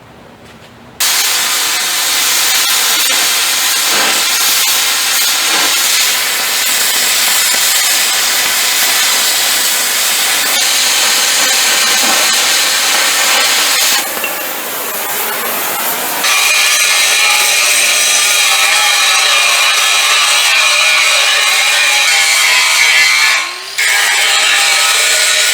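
Steel being cut and cleaned up for a homemade gooseneck trailer, a loud steady hissing, grinding roar that runs nearly the whole time, with a brief change in tone midway and a short dip near the end.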